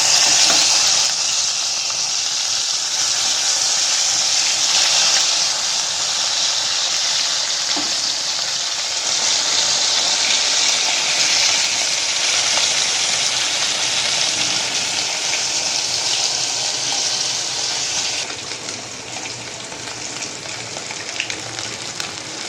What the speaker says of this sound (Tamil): இன்னும் கொஞ்சம் மீன் இருக்குது, அதை பொரிக்கிறோம்.